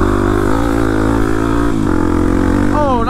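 Kawasaki KLX300 dirt bike cruising on trails at Hatfield McCoy, its engine droning steadily and loud close by, with a brief dip in tone near the end as the rider shifts or eases off.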